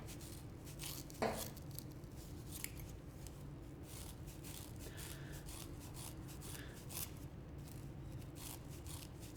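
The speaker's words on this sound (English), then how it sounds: "take a pair of scissors and cut some of that off so you stiffen it up." Scissors snip repeatedly through stiff brush bristles to shorten and stiffen them, a series of crisp close cuts with scratchy rasping between them.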